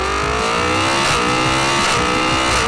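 A Yamaha MT-10 motorcycle engine revs loudly, hard and steadily, its pitch rising and falling as the throttle is worked, with no talk over it.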